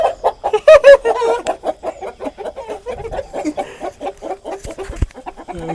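Country chickens on a farm near Vijayawada, white, black-and-white and all-black birds, cluck and squawk in a busy, close chorus of overlapping calls with no talk.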